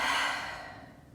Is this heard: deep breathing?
yes